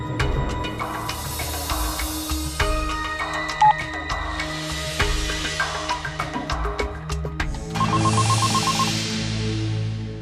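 A telephone line clicks and tones after a redial, then rings in a repeating electronic pattern over a faint hiss.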